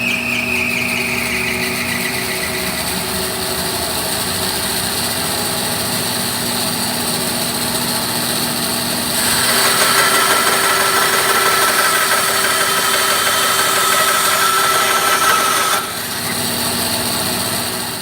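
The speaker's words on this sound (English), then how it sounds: "We'll turn on our bandsaw and see what happens." A bandsaw runs with a steady high mechanical whine while cutting a steel wiper shaft mount at a 45-degree angle, its tone shifting and growing louder midway as the blade bites.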